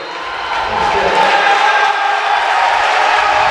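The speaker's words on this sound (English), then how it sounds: "the crowd is erupting here at the Reagan Center" A college basketball crowd roars and cheers loudly at the Reagan Center during a SLIAC men's quarterfinal, a broad sustained swell of voices with commentary mixed in.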